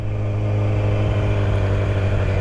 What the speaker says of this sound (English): while the clutch is pulled in, blip the throttle